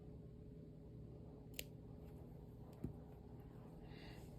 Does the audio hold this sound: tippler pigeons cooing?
no